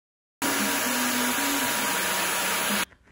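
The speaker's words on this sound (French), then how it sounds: "je mets Yael sous mon casque chauffant maison" A homemade heated hair cap runs with a steady, close blower whir, switching on abruptly after a brief silence and cutting off near the end, with no talking.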